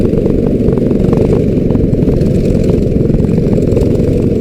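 Go-kart engines drone steadily and loudly at a kart endurance race in Canberra, a continuous buzzing rasp at close range with no pauses or voices.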